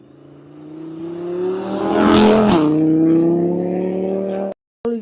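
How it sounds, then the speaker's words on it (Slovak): A tuned Škoda sports car with four exhaust tips revs its engine, a deep rumbling drone rising in pitch to a peak, falling sharply, then holding a steady burble before cutting off abruptly, loud and close with no talking. "4 koncovky výfukov, ktoré vydávajú takýto parádny zvuk"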